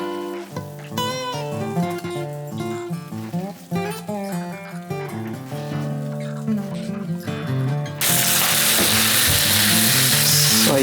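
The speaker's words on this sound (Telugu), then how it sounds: "సో మన రైస్ని కొంచెం ఫ్రై చేస్తున్నాము, సో దట్ కొంచెం స్మోకీ ఫ్లేవర్ వస్తుంది మనకి తినేటప్పుడు" Rice for egg fried rice sizzles loudly in a hot pan during the last few seconds, a dense, bright hiss that follows a stretch of music.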